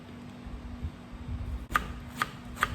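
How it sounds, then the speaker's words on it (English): A knife shreds cabbage thinly on a board, three crisp, quiet cuts spaced out near the end over a soft background hum. "I'm gonna use some cabbage. And shred some."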